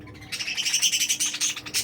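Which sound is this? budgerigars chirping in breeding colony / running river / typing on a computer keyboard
budgerigars chirping in breeding colony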